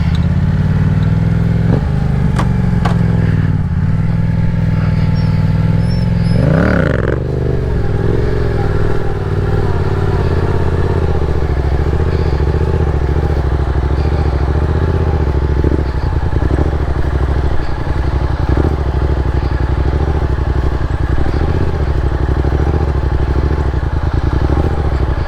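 A Yamaha FZ07 motorcycle set up for stunts runs continuously while riding circles, its engine rising in a brief rev early on, then holding a loud, steady, raspy drone up close throughout.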